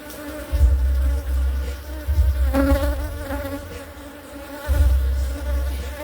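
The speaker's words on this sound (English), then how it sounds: "There's a lot of bees down there." Dense honey bee buzzing inside an opened hive, a steady insect drone that swells and fades as the frames are handled, close and fairly loud with no talking.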